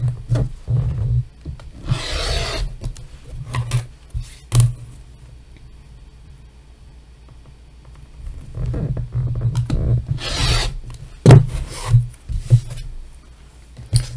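Fabric being cut into 2.5 inch quilt strips: intermittent close rubbing and scraping strokes in short bursts, separated by quiet gaps and a few sharp taps, with no talk.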